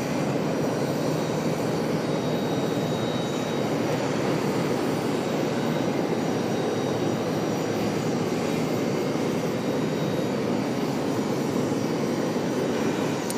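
An airliner at Charlotte airport makes a constant loud, broad engine roar with a faint high whine, steady and unbroken for over thirteen seconds, with no voices.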